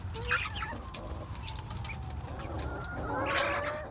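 Chickens cluck and murmur softly nearby over a low rumbling background, with a louder burst of clucking near the end.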